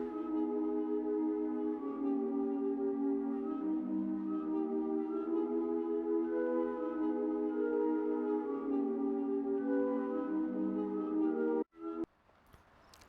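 A dry tape hollow woods sample holds sustained, mellow chords with a soft woody tone, even and close throughout, then stops abruptly near the end with a short click.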